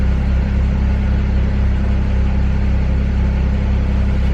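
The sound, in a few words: car engine revving as the gas is tapped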